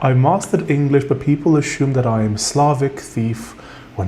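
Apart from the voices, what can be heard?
No everyday noise stands out behind the speech.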